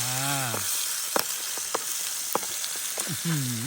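Thai curry paste stir-fries in hot oil outdoors, a steady close sizzle broken by occasional scraping clicks of stirring, while a voice briefly speaks at the start and end.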